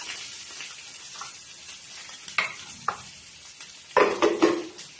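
Soft, steady sizzle of liver frying in a pan, with a few louder scraping stirs and clatters near the end, close up and without speech.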